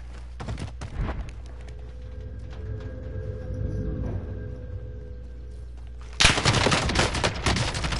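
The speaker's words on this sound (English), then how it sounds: "Oh, I'm getting sniped." Sniper gunfire in a video game: a few sharp shots early on, then a loud, dense burst of rapid gunfire near the end over steady background game noise.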